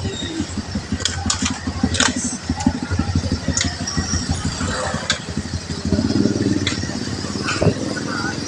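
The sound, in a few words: motorcycles idling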